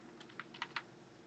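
Several light keystrokes on a computer keyboard while a presentation name is entered, quiet and close, a short irregular burst of clicks over faint room hiss, no voices.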